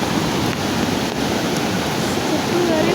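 Loud, steady rush of floodwater after heavy rain, roaring continuously without pause, a dense churning wash close by carrying grass along, with no clear voices.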